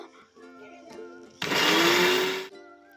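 Mixer grinder blending roasted spices and seeds with water into a smooth paste for a masala pomfret dish, running in a single loud, close whirring burst of about one second between quieter kitchen moments.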